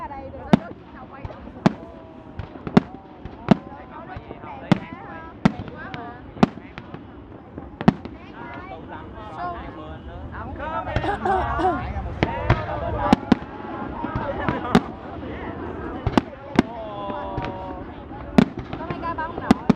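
Festival fireworks at the Dalat Flower Festival 2015 bursting in repeated sharp bangs every second or so, with crackling stretches, while onlookers talk throughout.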